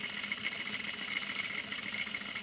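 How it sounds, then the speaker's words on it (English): A sewing machine runs a stitch line along the edge of the presser foot, giving a faint, steady mechanical whirr with a rapid even pulse and nothing else. "I'm going to run this previous stitch line right on the edge of this presser foot"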